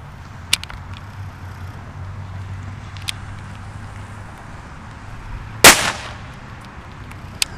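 One sharp, loud firecracker bang with a brief crackling tail, standing out from a quiet outdoor background with a few faint clicks.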